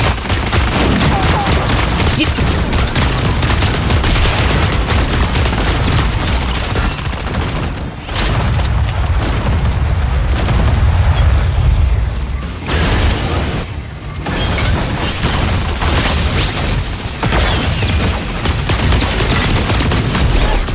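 Dense, continuous bursts of rapid gunfire and mechanical clatter in the video game Super Mecha Champions, loud and sustained, with brief lulls around the middle.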